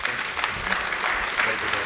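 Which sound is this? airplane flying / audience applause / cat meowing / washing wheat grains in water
audience applause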